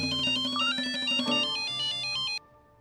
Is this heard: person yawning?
no